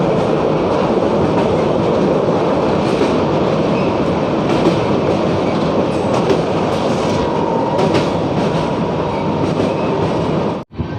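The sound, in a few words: Gaya Kamakhya Express train passing through Manpur Junction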